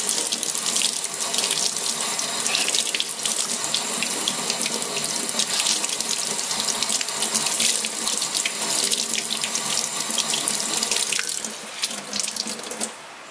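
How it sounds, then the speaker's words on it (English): Water runs steadily from a tap for about twelve seconds as a beauty blender makeup sponge is rinsed under it, a loud, continuous splashing flow that eases slightly near the end. "And then I also rinse it with water."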